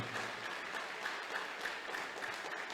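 Church congregation clapping and cheering in praise, a steady, faint wash of applause that continues evenly throughout.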